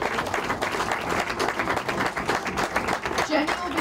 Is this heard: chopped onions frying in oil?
no